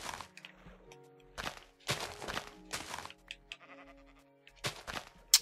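Several short sheep bleats from Minecraft, spaced irregularly over a few seconds with soft in-game footsteps and thunks between them, fairly quiet and with no talking.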